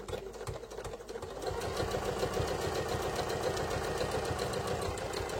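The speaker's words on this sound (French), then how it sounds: "Donc, on va coudre tout autour." Steady mechanical whirring of a sewing machine stitching around a fabric cigarette case, with a fast, even needle rhythm that picks up and holds a constant pace after a brief start, close and moderately quiet.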